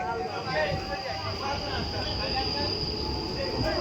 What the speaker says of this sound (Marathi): जस्ट आपण पनवेलवरनं ट्रेन पकडली आहे